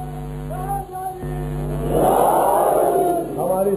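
A crowd at a religious gathering joins in a loud, swelling collective shout of devotional slogans for Ali. It rises over a tonal, sustained sound system hum and briefly overlaps a voice.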